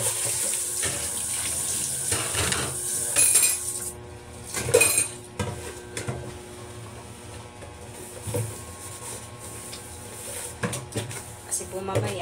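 Running water and clattering pots and utensils sound at a kitchen sink as rice is readied for cooking, with irregular knocks and splashes and a voice speaking at times.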